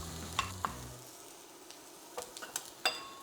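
White onion dropped into vegetable oil in a pan over medium heat, giving a few sharp clicks and a low burst of sizzle that settles into a quieter crackle with scattered pops, heard alone without talk.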